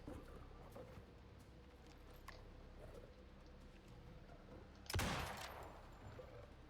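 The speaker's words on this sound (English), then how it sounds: "For those snow leopards I'll use the shotgun." A single shotgun blast rings out in the survival game Icarus as a player hunts snow leopards, one sharp crack with a brief tail standing out against a faint, steady ambient background.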